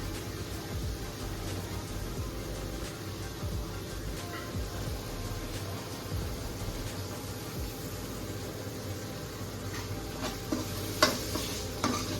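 Cashews stirred into sizzling, oil-rich masala in a pan, a steady continuous frying hiss with soft scraping of the spoon, close and even, a few louder clinks near the end.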